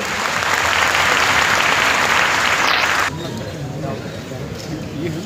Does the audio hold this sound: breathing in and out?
no